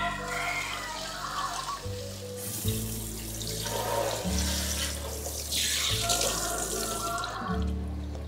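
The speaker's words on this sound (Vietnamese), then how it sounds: "Bây giờ thì mình sẽ rửa sạch lại với nước lạnh thôi." Cold water runs steadily from a kitchen tap over raw chicken in a sink as it is rinsed for steamed lemongrass-lime chicken, a close, continuous splashing that shifts in pitch as the pieces are moved under the stream.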